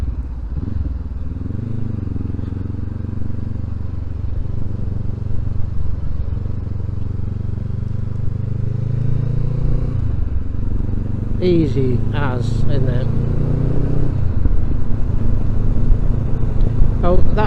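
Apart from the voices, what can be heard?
Honda CB500X motorcycle exhaust without baffle, pops and bangs on overrun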